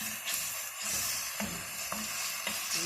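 A mushroom mixture is stirred in a hot pan. A steady sizzle runs throughout, and a utensil scrapes the pan now and then with a few soft knocks, close and fairly quiet with no voices.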